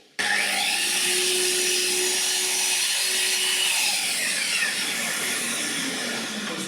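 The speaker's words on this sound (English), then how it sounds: "We're powered up, and we'll do a test cut." A Festool Kapex KS 120 EB mitre saw spins up abruptly for a test cut with Festool dust extraction attached, giving a loud, steady motor whine and airy hiss that holds level for several seconds, close up.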